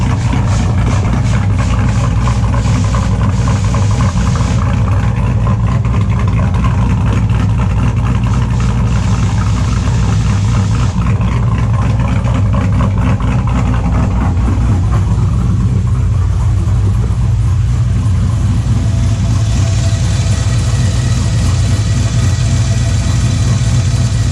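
A truck with a four-cylinder LS engine idles loudly and steadily at close range, a deep constant rumble with no one talking.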